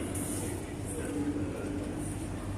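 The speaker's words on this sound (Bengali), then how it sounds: "আমরা এখন দুবাই মেট্রোতে ঢুকবো" Interior of a Dubai Metro train, with a low steady rumble and hum of the carriage in motion, a few faint high whines, and the background murmur of passengers.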